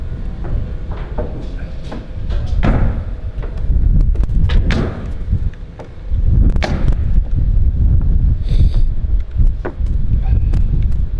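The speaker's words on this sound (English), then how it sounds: "Man, we're getting a lot of wind today." Strong wind buffets an outdoor construction site where second-floor walls are being framed, a loud, rumbling roar with gusty surges and occasional thumps, close to the microphone.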